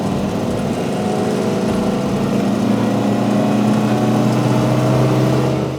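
A 1955 MG Magnette ZA saloon's engine under hard acceleration, a steady loud drone with rising harmonic tones heard from inside the car, continuous throughout.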